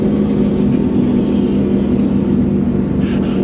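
A BMW E9X M3 fitted with an Eventuri intake runs with a deep, steady engine rumble and a strong low droning tone, close and loud, holding nearly constant throughout.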